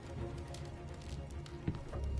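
Horses gallop in a PS4 video game, a steady patter of hoofbeats over a dense, noisy background with one sharper thud near the end.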